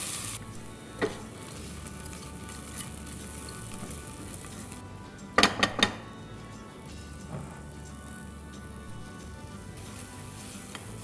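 Fresh corn sizzles steadily in a hot pan, with a continuous crackling fry and a few louder clattering stirs near the middle, no voices.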